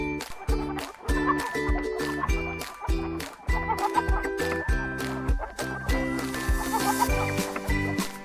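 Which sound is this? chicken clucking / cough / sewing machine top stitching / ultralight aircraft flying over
chicken clucking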